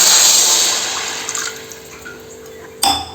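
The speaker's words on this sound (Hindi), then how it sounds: "अब हमने 1 गिलास पानी इसमें डाल दिया है।" A glass of water poured into a laddu mixture for gond laddus, a splashing pour that tapers off, followed by a brief sharp clink near the end.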